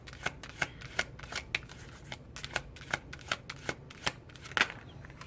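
Queen of the Moon oracle cards shuffled by hand in a rapid, irregular riffle of crisp card slaps and flicks, close and steady throughout with no talking.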